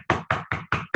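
Five sharp, evenly spaced knocks on a door in quick succession, loud and close, with no voices.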